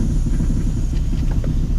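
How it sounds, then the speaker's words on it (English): Exhaust on a 1983 Mercury Capri RS that sat for nine years, rattling and knocking as it idles; a loud, steady low rumble with faint irregular knocks running through it, close by and with no talking. "That knocking or whatever you guys hear is the exhaust just rattling."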